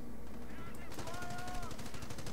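A machine gun fires rapid, rhythmic bursts in Company of Heroes, heard at moderate loudness alongside other battle noise and honk-like tones; a voice comments over it.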